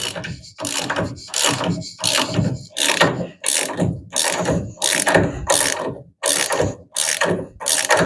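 Ratchet wrench cranking a bolt out of the front suspension of a 1975 Plymouth Duster, loud close clicking bursts in roughly ten regular strokes with short pauses between them.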